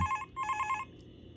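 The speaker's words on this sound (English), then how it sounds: "gonna let the phone call play first" An old-style telephone bell rings in a Five Nights at Freddy's fan game, two quick bursts of bright trilling rings separated by a short gap, fairly quiet over a low background hum.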